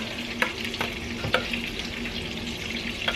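Spaghetti sauce with bay leaves is stirred in a pot over a low simmering sizzle, with several distinct spoon scrapes and clinks spaced through it, no talk.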